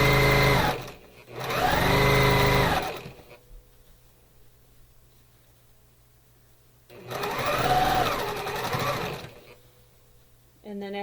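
A sewing machine stitches quilt seams in two loud bursts of rapid mechanical whirring, separated by a quiet pause with faint hum, with a brief start of a third run at the end.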